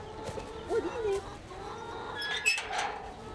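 Chickens clucking and calling at feeding time in a convent's farmyard, with short broken clucks and a few higher squawks close by, mixed with faint voices and outdoor background.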